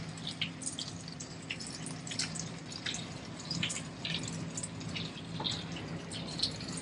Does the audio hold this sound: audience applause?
no